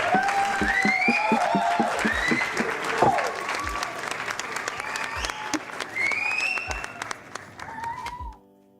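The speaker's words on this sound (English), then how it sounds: "I think we give Lynn a round of applause" A small crowd gives a round of applause for Lynn after a rainbow painting, steady clapping with whoops and cheering voices over it that dies away at the end.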